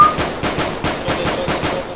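Pistol fire in the military shooter game Arma 3: a rapid, even string of about a dozen sharp shots in two seconds, loud and close, with no talking over it.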